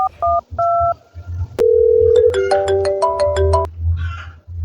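A handset is dialed with a quick run of touch-tone beeps, then a held tone gives way to a rapid repeating ring pattern, over a low background hum with faint voices around it.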